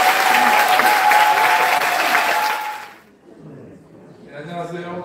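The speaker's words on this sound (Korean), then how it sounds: "박수 부탁드립니다." A crowd applauds steadily for about three seconds, then the clapping fades out and a person begins speaking.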